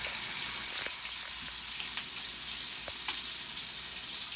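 Lamb cooks in a hot pan with its juices running, a continuous close sizzle with faint crackles and pops scattered through it.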